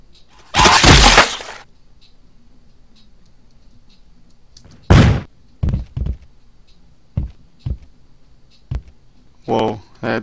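A cannon fires and a character crashes in the Happy Wheels video game, with a loud burst at the start and several sharp impacts and thuds that follow, mixed with brief bits of voice.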